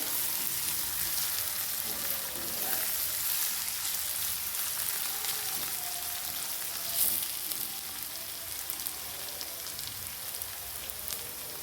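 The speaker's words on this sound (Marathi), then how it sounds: "ते पण आपल्याला छान मस्त तेलावर परतून घ्यायचे बघा अशा पद्धतीने" Grated ginger sautéing in hot oil in a pan for a potato dish, a steady bright sizzle and hiss that stays even throughout, with faint stirring now and then.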